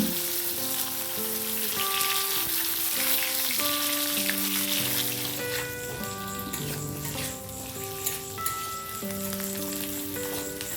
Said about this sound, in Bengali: তেলটা যখনই দেখবেন ভালোভাবে গরম হয়ে গেছে তখনই এখানে সিদ্ধ করা আলুগুলোকে এইভাবে ছেড়ে দিন